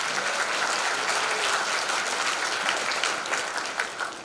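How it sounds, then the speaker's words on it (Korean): A crowd at a Nowon district lecture event applauds introduced lawmakers with sustained, dense, loud clapping that holds steady and then tapers slightly at the end. "제가 소개해드리면 큰 박수를 부탁드리겠습니다."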